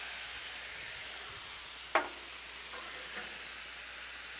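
Shrimp sizzle on a Blackstone griddle, a steady close hiss of frying broken by a single sharp tick and a fainter clink.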